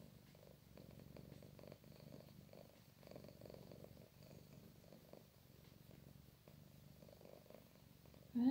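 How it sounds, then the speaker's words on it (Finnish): A cat purrs steadily and close, a low rhythmic rumble pulsing with each breath, faint and continuous in a quiet room, ending with a brief louder sound. "Joku tuli siihen hyrisemään taas"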